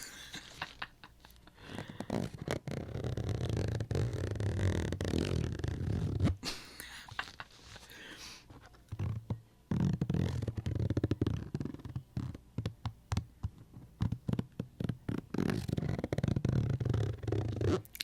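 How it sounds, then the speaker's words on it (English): Rough, rapid scratching and rasping of a clothing zipper close up, with bursts of quick irregular scrapes that fade in and out, no voices. "That's me scratching the zipper"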